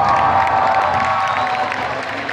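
A loud, dense crowd at a comic convention applauds and cheers Mexican dubbing actors, a steady roar of clapping and shouting that fills the hall without pause.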